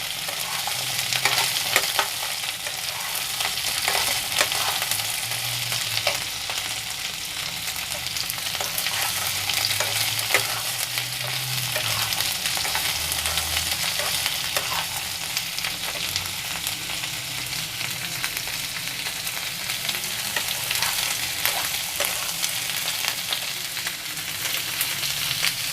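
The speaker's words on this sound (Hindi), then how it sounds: "सारे सब्जियों को थोड़ा थोड़ा इसमें डाल के फ्राई कर देंगे।" Mixed vegetables including beans stir-fried in a pan, giving a steady, close sizzle with faint stirring scrapes throughout and no talking.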